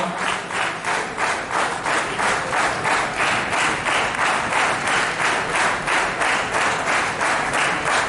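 Loud, sustained crowd applause at a public reception for a cycle rally, dense clapping rolling continuously for about eight seconds with pulsing swells and no voices over it.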